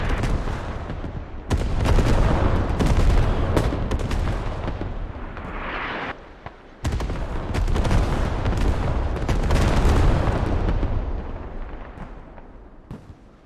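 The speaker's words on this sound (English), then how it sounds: "0 kills off that artillery strike, I think." Heavy artillery strike explosions in the military shooter game Squad on the Kokan map, booming in long, dense rolling waves with a short lull midway, loud and continuous, no talk.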